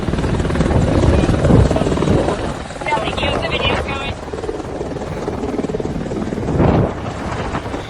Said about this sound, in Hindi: 3 अपाचे हेलीकॉप्टर गाजियाबाद के इंडियन एयरबेस पर गरजते हुए उतरे